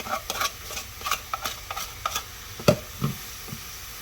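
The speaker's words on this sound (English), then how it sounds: "just kind of stir it all together" Brussels sprouts with garlic being stirred in a pan: a series of close, rhythmic scraping and tapping utensil strokes over a faint sizzle, with one louder clack near the end.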